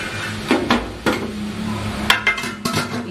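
A metal chiffon cake pan clanks and knocks a few times at close range as it is placed into a steamer, with a sharp scrape and rattle as it is set down inside.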